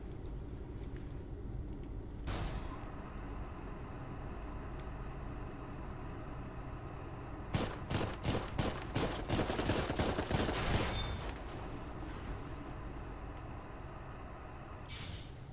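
Automatic weapon fire from a mech in Armored Core erupts midway as a dense, rapid burst of shots lasting a few seconds, loud over a steady low game rumble, then fades back to the background drone.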